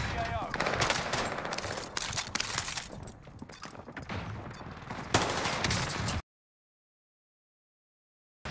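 Dense, rapid automatic gunfire from the video game Call of Duty on Rebirth Island, with loud overlapping bursts and shots that fill the first six seconds before cutting to silence.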